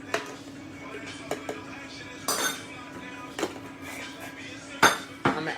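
A spoon clinks and clatters against dishes and pots in a home kitchen during vegan chickpea mushroom pasta cooking, several sharp metallic knocks scattered over a low steady hum, with someone talking.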